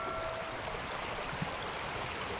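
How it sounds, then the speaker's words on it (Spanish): A river runs at the start of a fishing trip, a steady broadband wash of flowing water heard from nearby with no talk over it. "Te voy a mostrar un poquito el río."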